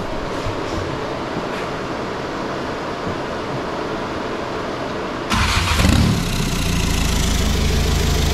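A tuned VW Golf GTD with a 2.0 TDI diesel engine cranks and fires at once, then settles into a loud, steady rumbling idle after a stretch of constant background noise.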